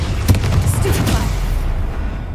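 A Stupefy stunning spell cast in a Harry Potter video game, heard as a short burst and whoosh over a steady low game rumble, with a voice speaking briefly around it.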